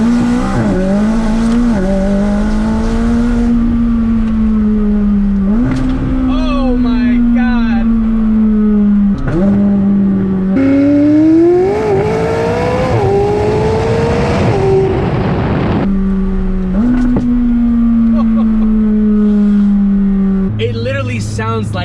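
A DME-tuned McLaren 600LT engine revs hard again and again up close, its exhaust roaring and rising in pitch, then dropping back to a steady idle between the loud, repeated blips.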